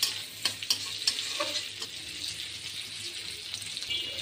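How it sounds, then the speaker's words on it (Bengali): Prawns frying with onion and garlic in a pan for a radish-greens dish are stirred, a steady close sizzle broken by quick scraping strokes of the spoon, with no talking. "এখন আমি পেঁয়াজ রসুনের সাথে এই চিংড়ি মাছটাকেও ভেজে নিচ্ছি"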